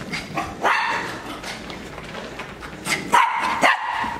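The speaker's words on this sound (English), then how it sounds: "What are you barking at?" A dog barks in several sharp, loud bursts close by, with short pauses between them and no voices.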